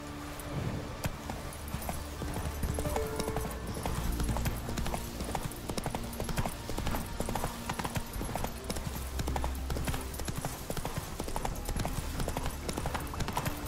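Horse hooves clip-clop in a steady, quick rhythm during riding in The Witcher 3, loud and continuous throughout with no voices over them.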